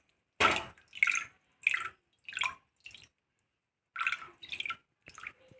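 Flattened rice (aval) is rinsed in water in a sieve, making a series of close, separate splashing and dripping bursts with short silent gaps between them.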